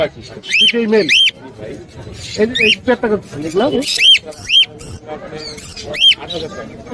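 Lories and cockatiels at the Mirpur 1 bird market give sharp, repeated squawks and chirps close by, over and between someone speaking.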